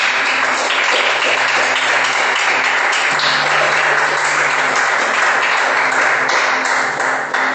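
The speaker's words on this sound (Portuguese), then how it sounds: "Você pode aplaudir a Ele?" Church congregation claps steadily and loudly in a dense, sustained round of applause that fills the whole stretch, with a faint sustained tone beneath it.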